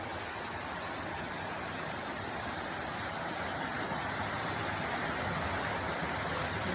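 A creek flowing just off a trail on a spring fastpacking loop, a steady broadband rush of water that holds even and constant throughout with no voices.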